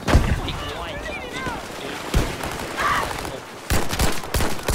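Gunfire rattles in Battlefield V, with sharp shots and bursts loud over a busy game mix. A burst near the end hits hardest. Players talk over the action.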